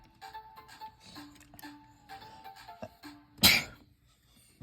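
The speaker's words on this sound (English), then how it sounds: "I had to sneeze." A single sharp, loud sneeze bursts out once near the end, standing clearly above quiet background clicks and handling noise from plastic Transformers toy parts.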